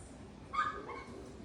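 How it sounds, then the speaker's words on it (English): A puppy outside a house gives a single short yip or bark, faint and distant, heard through walls against a low indoor hum. "Oh, look at that puppy outside."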